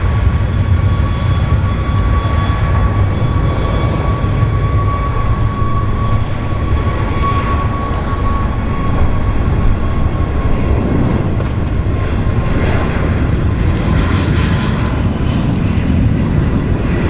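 A fixed-wing aircraft at Vancouver Airport roars steadily and loudly, its engine drone and whine holding constant throughout with no talking.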